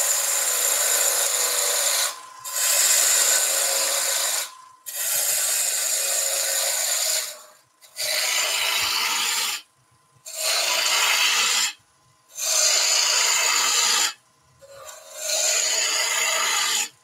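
A turning tool cuts waste from wood spinning on a lathe while a potting shed tool is turned, making a loud, steady scraping rasp in long bursts separated by short pauses, with no talking.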